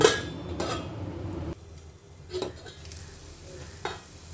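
Ginger curry simmering in a pan over low heat, with soft bubbling and a few clinks and stirring scrapes, loudest at the start and then quieter, with no talking.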